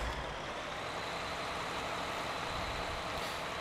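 JCB Fastrac 3230 tractor in the off-road driving game Spintires: MudRunner, a steady, dense engine roar and drivetrain noise holding at an even level throughout with no talk.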